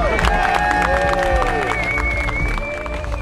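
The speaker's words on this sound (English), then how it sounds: "let's give him a big round of applause" Audience applause at a scale RC modeler truck show, honoring a best-of-show truck, dense clapping with crowd noise and mixed chatter and talk running through it, steady and fairly loud throughout.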